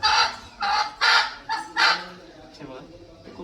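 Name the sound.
multicoloured native (gavran) hen clucking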